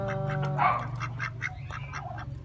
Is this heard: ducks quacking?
yes